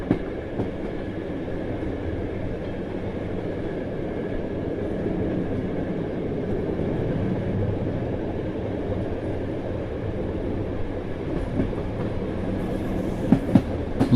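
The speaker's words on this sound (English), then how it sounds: "the rhythmic clatter of the train slowly lulling him into a pre-departure doze" Continuous rumble and rhythmic clatter of a train rolling on rails, steady throughout, with a few sharp clanks near the end.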